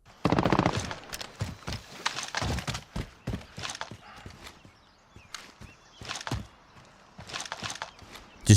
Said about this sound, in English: Just gunshots, your footsteps, enemy gunfire.